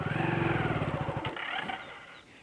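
A motorbike engine revs hard with the clutch released on a climb, a loud, close, steady buzzing drone that falters and drops away after about a second as the engine bogs and fades.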